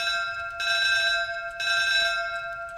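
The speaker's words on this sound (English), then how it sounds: "There's our bell" Fire alarm bell in Minecraft during a drill, a loud steady ringing tone that pulses in two bursts, each about a second long, with no voices.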